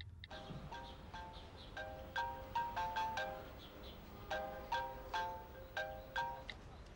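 A phone ringtone chimes for an incoming call, a quiet repeating melodic pattern of bright tones in short bursts with near silence around it.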